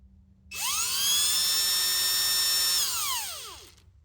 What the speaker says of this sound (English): This is a 1/4 drill bit.